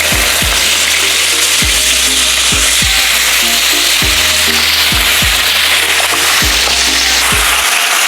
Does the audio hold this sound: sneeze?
no